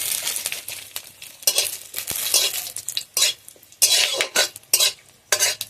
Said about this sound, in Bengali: তেলের মধ্যে দিয়ে দেবো শুকনো লঙ্কা,